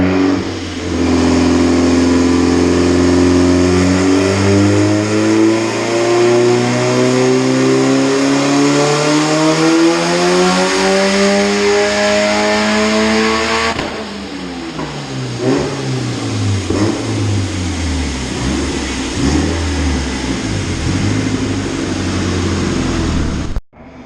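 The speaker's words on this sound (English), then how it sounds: "we just did a pull on Biggie's car" A big-turbo single-cam engine in the Chevstang car roars on a dyno, climbing steadily in pitch for a long loud pull, then dropping back into rough, uneven revving.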